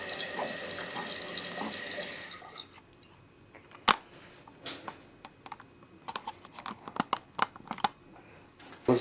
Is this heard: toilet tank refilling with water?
yes